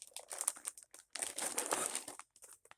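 Plastic project bag crinkling and rustling as it is handled up close, in bursts with brief pauses, no talk.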